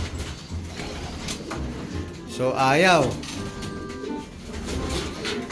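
An Imbrecht pigeon coos once at close range, a rising and falling warble over steady outdoor background noise, with someone talking around it.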